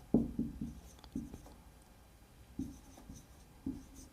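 Marker or pen strokes writing a trigonometric math expression for a Class 12 maths lesson, a handful of short scratchy bursts in irregular rhythm, close and fairly quiet with pauses between strokes.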